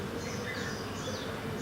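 Honeybees on a hive frame during an inspection, giving a soft, steady close buzz that hums on throughout with no voices over it.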